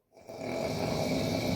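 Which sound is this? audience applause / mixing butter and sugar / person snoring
person snoring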